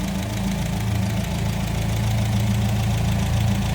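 A 1960 Nash Metropolitan convertible's engine idles at close range, a steady, even chugging rumble with a slight knocking pulse and no voices.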